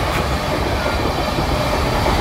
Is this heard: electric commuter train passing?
yes